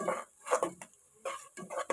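Onions being stirred as they brown in a frying pan, with a spoon scraping and clinking against the pan in a few short bursts separated by pauses, close and moderately loud, with no talking.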